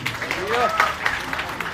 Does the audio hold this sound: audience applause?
yes